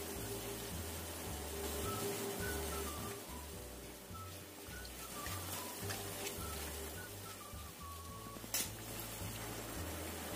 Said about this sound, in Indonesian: Ini kita bolak-balik, kedengeran sudah kering renyah ya.